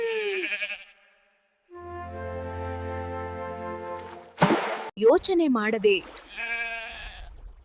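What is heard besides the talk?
goat bleating in a cartoon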